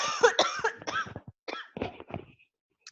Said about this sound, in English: I am so sorry to be coughing in y'all's ears